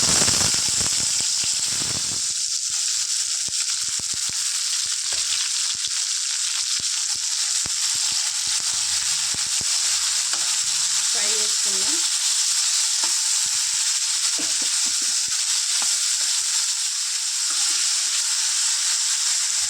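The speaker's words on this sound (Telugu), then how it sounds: "ఇలా ఫ్రై చేసుకుందాం ఫ్రెండ్స్ ఒక ten minutes fifteen minutes fry చేసుకుందాం ఫ్రెండ్స్" Chopped ivy gourd frying in a pan, a dense continuous sizzle that holds loud and steady throughout, with occasional stirring scrapes and a few soft clatters, no voices.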